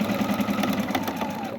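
A Viking Quilt Designer SFV1 computerized sewing machine runs steadily, its needle mechanism producing a fast, even mechanical chatter close by with no talking.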